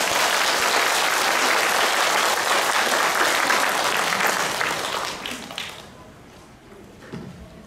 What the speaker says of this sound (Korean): 다시 한번 감사의 박수 올리겠습니다